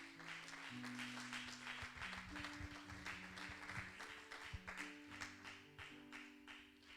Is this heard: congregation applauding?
yes